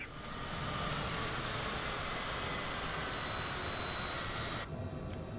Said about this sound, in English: so we're now being clear for takeoff.